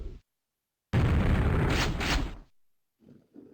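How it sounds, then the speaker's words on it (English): In Quake 2, an explosion blows apart an obstacle with one loud, roaring blast that lasts over a second and a half before cutting off, followed by faint sounds afterward. "let's blow it up and get in there."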